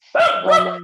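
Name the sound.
dog barking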